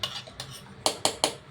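Metal utensils clinking against a pot while chutney is transferred to another vessel, with a few light taps followed by three sharp, evenly spaced clanks close by.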